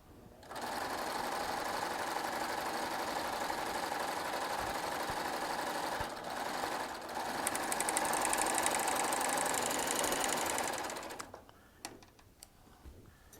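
A Baby Lock Triumph serger with a ruffling foot runs steadily on thin fabric, a loud continuous whirring stitch for about eleven seconds that briefly dips near six seconds, then stops and leaves faint handling clicks.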